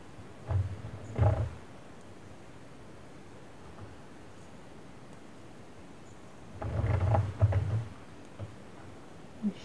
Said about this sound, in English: My machine is creaking today.